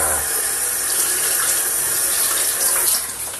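Kitchen tap water runs in a strong, steady stream into a sink while something is washed, a loud continuous rush with no pauses and no talking.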